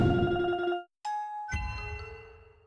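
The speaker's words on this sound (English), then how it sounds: "RobTop's old game Boomlings has a similar sound called Counter001" Counter001 sound effect from the video game Boomlings, a short bright electronic chime: a tonal burst, a brief gap, then two more ringing synthetic tones that decay over a couple of seconds, heard alone.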